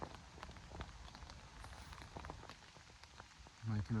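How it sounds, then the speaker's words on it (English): Rain falling on a tent, a soft, steady patter of scattered drops close by, with a louder brief rustle near the end. "Rain's coming down now."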